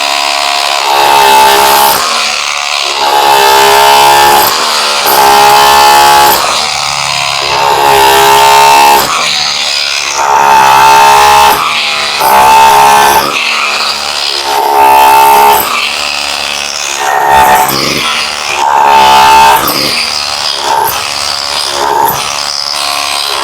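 A Dongcheng DCZC02 rotary hammer chisels in bursts of loud, continuous rattling hammering, roughly eight close runs separated by brief pauses, with no talk over it.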